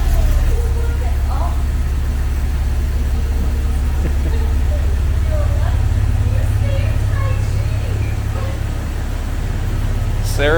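Engine of a 2000 Jeep Wrangler Sahara running steadily just after starting, a low continuous idle rumble, close and even, with a voice talking over it.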